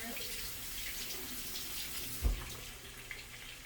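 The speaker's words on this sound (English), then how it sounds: "So let me rinse them off." Potatoes are rinsed under a running kitchen tap, a steady, fairly faint rush of water with one brief low knock partway through.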